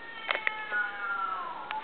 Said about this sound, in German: Das sind Katzen